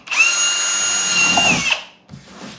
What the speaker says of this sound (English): I'm just gonna go along, drill some holes.